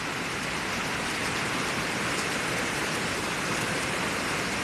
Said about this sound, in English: Yeah, it's a little bit of rain out here this morning.